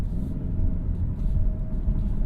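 Synthesized engine sound piped into the cabin of a 2024 Mazda CX-30 on a curvy road: a steady, close, low rumbling drone that swells slightly, with no talking.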